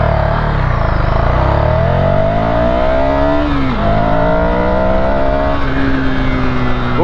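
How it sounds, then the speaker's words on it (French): A car engine revs hard toward about 9000 rpm, a loud, continuous note sweeping up and down through the gears, its pitch rising, dipping and climbing again with no talk over it. "il faut quand même monter un peu dans les tours pour entendre le moteur"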